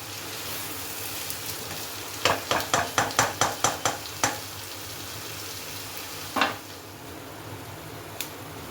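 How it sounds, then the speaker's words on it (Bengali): Onions in salt fry in a pan as a spoon stirs them in a quick run of about eight rhythmic scrapes, followed by one louder clank and a faint later tap, over a steady low sizzle. "পেঁয়াজটা ভাজা হয়ে গেছে বেশি লাল করলাম না একটু বাদামি রং হয়েছে"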